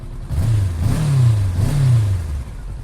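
Close and loud, the Honda NX500 motorcycle engine takes two quick throttle blips, rising and falling twice from its idle rumble.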